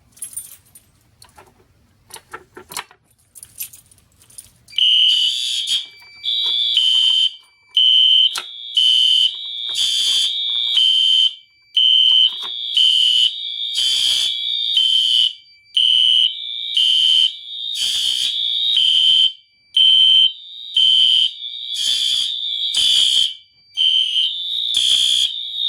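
A Simplex 4251-20 fire alarm sounds during a system test, loud repeated pulsed beeping bursts in a fast steady rhythm after a few seconds of quiet clinking.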